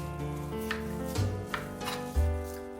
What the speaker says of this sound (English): the rest of them, since they're small, I just take this and cut it with the knife